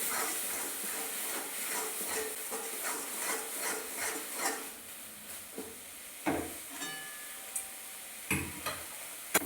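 Cauliflower stalk bharta fries in a pan with a steady, close hiss and sizzle, broken by occasional soft scrapes and clicks of stirring.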